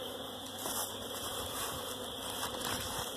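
A bee buzzes loudly right beside the ear outdoors in spring near compost buckets, a steady close drone that swells and dips slightly, with no voices present.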